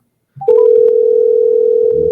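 A telephone dial tone starts abruptly after a short click and holds as a steady, loud, unbroken hum while a call is being placed.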